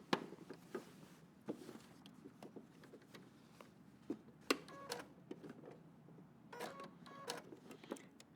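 A sewing machine stitches the front of a jeans jacket in short, irregular bursts of rapid mechanical ticking, fairly faint and close, with brief pauses between runs.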